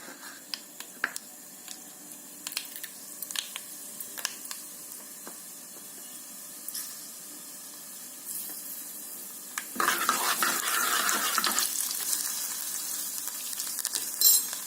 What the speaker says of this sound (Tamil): கடுகு உளுத்தம் பருப்பை சேர்த்துக்கலாம்.